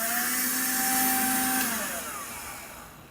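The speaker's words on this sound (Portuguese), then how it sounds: "Vamos dar uma apertadinha, a gente já ouve o barulho que ele faz." A Black+Decker cordless wet/dry mini vacuum cleaner runs with a loud, close motor whine that holds steady, then drops in pitch and fades as it winds down.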